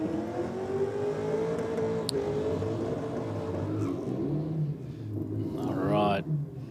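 Drag racing car doing a burnout at a night race event, engine roaring steadily near the limiter with a pulsing rumble, loud and close, while crowd voices sit underneath.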